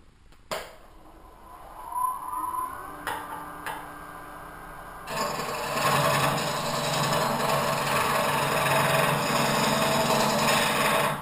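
A woodturning tool cuts cherry wood spinning on a lathe, starting with scattered knocks and light scraping, then settling into a loud, steady, rasping cut for the second half.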